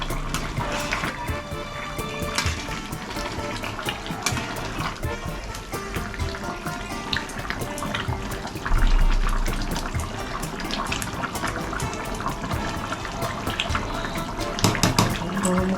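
Water pouring into chicken being fried with spices for a Bengali chicken and potato curry, a continuous splashing, bubbling rush with clattering utensil sounds throughout.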